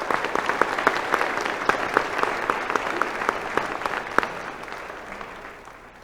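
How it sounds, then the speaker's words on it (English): A commencement audience at a college graduation ceremony claps steadily for honor graduates, with sharp individual claps standing out over the crowd's dense patter before the applause gradually thins and fades toward the end. "Let's give them a round of applause."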